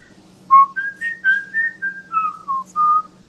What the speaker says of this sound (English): कोई बोल रहा है whistle बजाओ